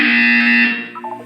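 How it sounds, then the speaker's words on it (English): A loud, steady electronic buzzer in the video game Portal 2 drones for most of a second, then cuts off, leaving a few faint wavering tones behind. "When you hear the buzzer, look up at the ceiling."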